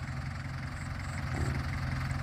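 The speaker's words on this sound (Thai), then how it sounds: "มาชมรถไถครับ เป็นยันมาครับมือนี้ยันมา EF 514ีครับ" A Yanmar EF514 tractor engine idles steadily with a low, even rumble throughout, close by and unbroken, with no talking over it.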